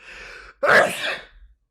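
A single loud, close sneeze bursts out after a short intake of breath, then tails off quickly, with no talking around it.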